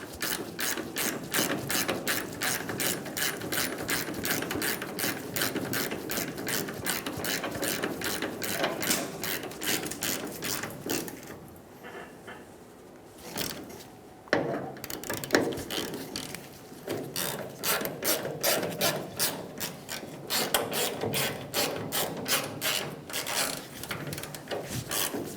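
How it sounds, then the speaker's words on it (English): Ratchet snugging the tailgate striker plate bolts on a 1988-1999 GMC K1500: long runs of rapid, close, crisp pawl clicks, broken by a short pause and a couple of thuds midway, then resuming at a steady pace, with no talk. "Snug the bolts down."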